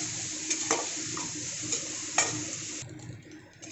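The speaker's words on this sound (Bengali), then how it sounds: "চিংড়িটা সবার আগে কাঁচা অবস্থাতেই একটু ভালো করে ভেজে নেব" Raw prawns frying in a pan for a potato, dried-fish and prawn stuffing, giving a steady close sizzle with a few soft stirring scrapes and clinks, no talking.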